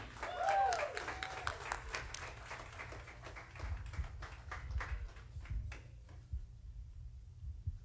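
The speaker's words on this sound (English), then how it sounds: "Let's get a quick round of applause for them." Applause from a small gathering at a virtual May Day parade, quick and fairly faint with scattered individual claps that thin out toward the end, along with some low background noise.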